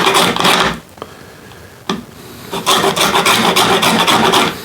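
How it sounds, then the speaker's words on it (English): A lime is grated against a microplane for zest, with repeated rasping strokes, loud and close, a quiet pause, then a longer run of steady scraping. "we're just going to use I guess they call that a microplane or a grater, whatever. We just want some of that good zest."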